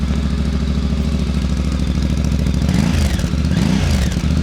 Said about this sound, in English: So that's the bike running guys, that's the standard exhaust.